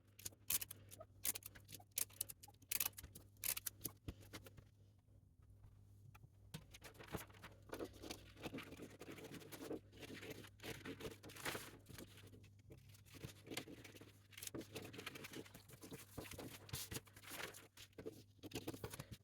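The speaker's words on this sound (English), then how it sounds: "I'm now going to tape those bits in place." Adhesive tape tearing and paper crinkling as paper pattern pieces for a drop-shoulder top are taped in place, with quiet, irregular ripping, patting and rustling and no talking.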